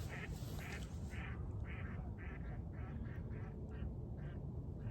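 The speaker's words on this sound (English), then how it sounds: "There was mostly mallards from the sounds of it" Faint mallard ducks quacking in a repeated series of about a dozen calls over a steady outdoor rumble, somewhat distant.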